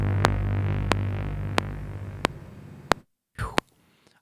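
A BLIPBLOX After Dark synthesizer sounds a pulsing, throbbing low tone with evenly spaced sharp clicks, then the note cuts away to near silence after the key is released, leaving a short faint tail.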